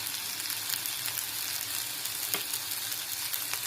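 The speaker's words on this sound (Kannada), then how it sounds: "ಇದು ಚೆನ್ನಾಗಿ ಫ್ರೈ ಮಾಡ್ಕೊಳ್ಳಿ." Drumstick leaves frying in a pan, a steady close hiss of sizzling oil with occasional stirring scrapes and no talk.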